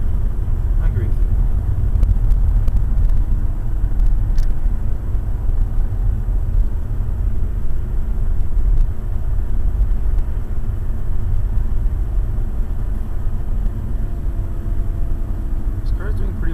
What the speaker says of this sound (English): This car is doing pretty well in first gear.